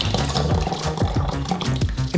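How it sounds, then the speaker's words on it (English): Thick liquid cake mass with dissolved gelatin and coconut chips pours steadily into a measuring cup, a continuous close gurgling, splashing stream lasting a couple of seconds with no talking. "Pour this all into a measuring cup"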